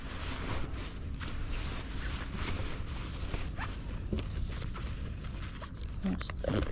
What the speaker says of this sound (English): There's the other zipper.